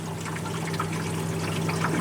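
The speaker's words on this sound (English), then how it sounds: "You have to have it up high so it drains naturally, gravity drain" Water gravity-drains from an ice machine in a steady close trickle, with a faint constant hum beneath it.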